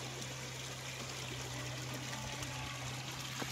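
A small river runs behind a farm lot, a steady broadband rush of flowing, trickling water heard close and continuous throughout, with no voices.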